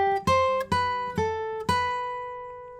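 Guitar picking a run of five bright notes from a riff high on the neck, each note plucked clearly and ringing into the next, the last one sustaining and fading, close and alone.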